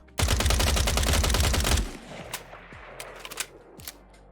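Rapid automatic fire from a modded assault rifle in Fallout 4, a dense loud burst lasting under two seconds, followed by scattered clinks and mechanical clicks of the reload animation.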